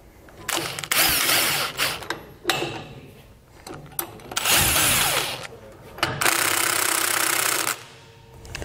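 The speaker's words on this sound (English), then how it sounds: "Now we'll come back with a 23 millimeter socket and tighten these down evenly across both U-bolts." A power tool drives a 23 millimeter socket to tighten U-bolt nuts on a Dexter trailer axle beam. Several loud, buzzing bursts of one to two seconds each are separated by short pauses and clanks.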